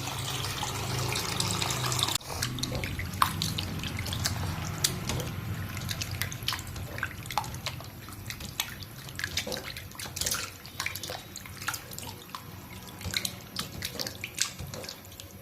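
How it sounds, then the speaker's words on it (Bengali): Meat being washed under a running kitchen tap: a steady rush of water for about two seconds, then irregular splashes and drips as the pieces are handled, close by with no speech. "এই দেখো মাংসগুলো এখন ধুয়ে নেব"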